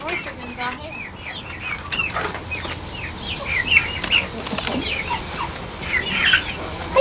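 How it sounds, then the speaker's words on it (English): Chickens clucking and chirping in a farm coop, a busy cluster of overlapping calls with occasional wing flaps, and people talking faintly in the background. "There's chicks I hear."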